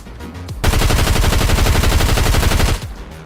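Sustained automatic gunfire in Fortnite rattles out as one rapid, loud, close burst lasting about two seconds, with brief quieter game sounds before and after.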